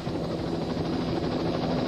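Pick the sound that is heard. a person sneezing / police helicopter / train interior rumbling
police helicopter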